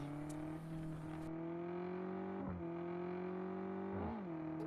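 Engine of a player's car overtaking a BMW M4 on a mountain road in Car Parking Multiplayer, a steady close droning tone holding level with brief dips and rises as gears shift, no voices.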